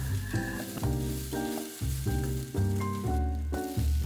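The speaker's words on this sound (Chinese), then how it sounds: "就加入黑木耳，稍微的炒拌一下。" Black fungus stir-fried with chopped shallots, ginger and garlic in a wok gives a steady, close sizzle broken by repeated stirring scrapes, with no voices.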